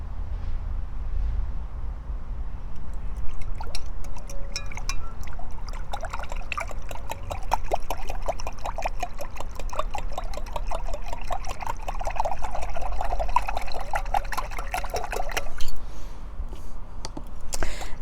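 Liquid soap poured into a homemade insecticide spray mixture, a soft close trickle and drip running steadily under faint background noise.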